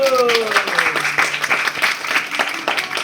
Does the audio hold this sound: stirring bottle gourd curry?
no